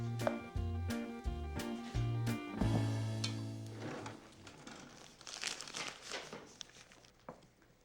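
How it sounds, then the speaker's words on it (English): Plastic piping bag crinkling and rustling as choux pastry dough is scooped and pushed inside, with a run of crisp crackles up close, then softer scattered rustles. "And now it goes in a piping bag."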